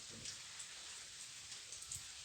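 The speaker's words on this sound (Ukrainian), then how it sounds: "Дощик уже йде більше двох годин, такий тихенький, тихенький, хороший дощик." Light, gentle rain falling steadily outdoors on a Saturday morning, a soft continuous hiss with scattered faint droplet ticks, quiet and even throughout.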